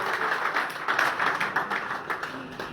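An audience claps to welcome a guest at an IMC Business training program, a steady wash of many hands lasting the whole moment at moderate volume with no talk over it.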